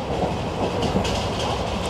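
The Satavahana Superfast Intercity Express runs at speed, heard from a seat inside. A loud, dense rumble carries a steady clickety-clack of the wheels, with no talk.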